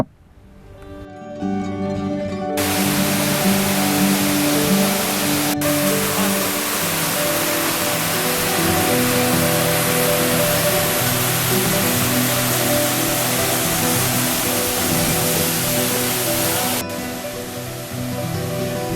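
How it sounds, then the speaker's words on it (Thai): The roughly 20-metre Kham Nam Sang waterfall in a forest in Sakon Nakhon, Thailand, roars steadily and loudly, a dense, continuous rush of falling water filling the whole stretch with no voices. "เสียงน้ำตกกระทบเบื้องล่าง ดังกังวานทั่วป่า"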